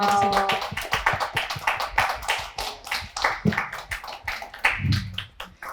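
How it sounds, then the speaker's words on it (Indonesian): Small audience clapping in appreciation at a talk event, a sparse, uneven patter of individual hands close by that thins and tapers off. "Mungkin kita bisa kasih tepuk tangan apresiasi dulu kali ya untuk kita semua gitu dari sini."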